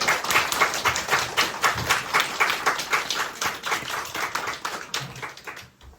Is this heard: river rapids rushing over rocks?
no